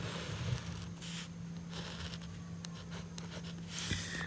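A pen or marker scratches faintly in short strokes across paper or a board as prime factors are worked out for a math lesson, over a steady low background hum.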